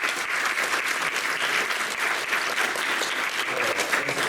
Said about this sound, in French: Je pense qu'on peut applaudir quand même et remercier les intervenants